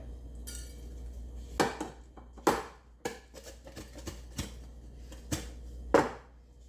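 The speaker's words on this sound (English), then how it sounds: "Let's see how easily it's going to come out of the pan." An angel food cake is knocked out of its baking pan, heard as several sharp, separate metallic knocks and clatters spread irregularly over a few seconds, close by and fairly quiet between hits.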